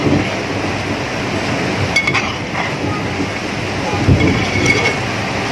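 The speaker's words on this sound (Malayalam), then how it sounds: "പുറത്ത് നല്ല ഇടിയും മഴയും കാറ്റൊക്കെ, നല്ല കാറ്റും കൊണ്ട് മഴയുണ്ട്" Rain and wind outside during a thunderstorm form a steady broadband wash throughout, with a few faint clinks and a brief low rumble near the end; no one speaks.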